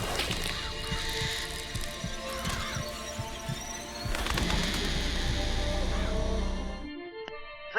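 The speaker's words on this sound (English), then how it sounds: "Press to summon murderous crows." Murder of Crows vigor in BioShock Infinite summoning a dense, loud swirl of cawing, fluttering crows over a throbbing game score, cutting off abruptly near the end into a brief quiet tone.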